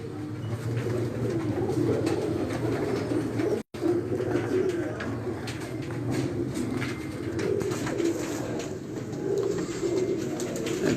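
Breeder pigeons coo steadily in a loft, soft low repeated calls layered close together, with a brief dropout partway through and faint background noise.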